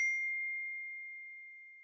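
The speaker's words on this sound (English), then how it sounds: "Is that my phone or John's?" A single phone notification ding rings out clearly on its own, a bright tone that fades slowly over about two seconds.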